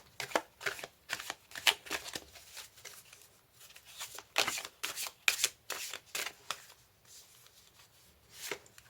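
Oracle cards from a mirror-themed deck shuffled by hand in several close bursts of crisp riffling and slapping, separated by short pauses, with no talking.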